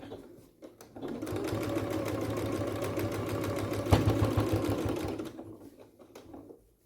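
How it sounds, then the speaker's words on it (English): Sewing machine stitching fabric for comfy pants with pins in the seam, a rapid mechanical stitching burst running steadily for several seconds after a brief start, then tapering off, close and fairly quiet. "Be careful when you're sewing over the pins."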